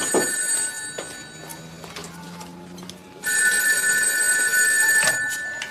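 A telephone bell rings indoors in two long, bright, trilling bursts, the second one louder, with a brief pause between them.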